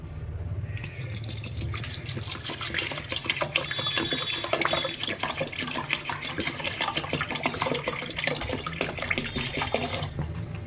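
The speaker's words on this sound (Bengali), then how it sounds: "এবার আমি জল দিয়ে দেবো।" Water is poured steadily onto rice soaking for fried chicken biryani, a close, continuous splashing and trickling stream with a short quieter start.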